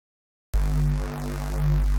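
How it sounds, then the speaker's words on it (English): Reese bass synth patch run through a Reason state variable filter in 2-pole notch mode with resonance at 25, a sustained detuned low drone whose notch sweeps up and down twice, giving a phasey whooshing motion after a brief silence. "And then we have a state variable filter with a 2-pole notch filter,"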